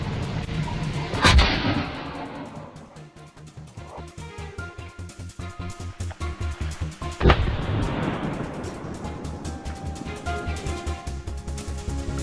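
Two loud gunshots aimed at wild boars ring out several seconds apart on farmland, each a sharp crack with a trailing echo, over a steady rhythmic mechanical thrum.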